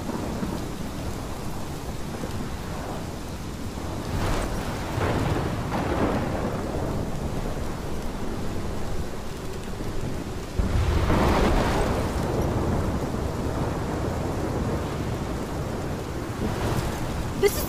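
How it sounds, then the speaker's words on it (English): Thunderstorm with heavy rain in the Life Is Strange video game: steady rain hiss broken by several deep rolling thunder claps, one louder crack near the end, no voices. "This is my storm."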